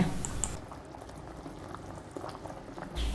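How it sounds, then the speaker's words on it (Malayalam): Jackfruit seed payasam simmers and reduces in a pot, bubbling steadily and thickly up close. The low, continuous boil swells slightly louder at the start and end. "ഇനി നമുക്ക് ഇതിനെ നന്നായിട്ടൊന്ന് വറ്റിച്ചെടുക്കണം കുറച്ചും കൂടി ഒന്ന് കുറുകി വരട്ടെ"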